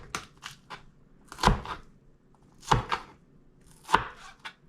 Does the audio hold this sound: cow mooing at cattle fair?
no